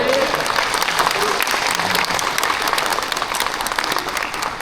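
An audience at a Jeonnam talent achievement-sharing session claps steadily in a dense, sustained round of applause, loud and continuous, tapering slightly toward the end.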